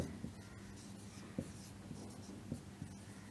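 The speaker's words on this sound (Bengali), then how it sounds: "যেমন একটা শব্দ লিখলাম" Handwriting a word in Bengali, a soft pen or pencil scratching against paper in a few short strokes with small taps, quiet and close, with faint room noise and no talking.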